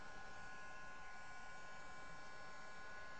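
A dryer blows on freshly painted mixed-media craft pieces, giving a steady, even whooshing roar that stays close and constant throughout, with no voices.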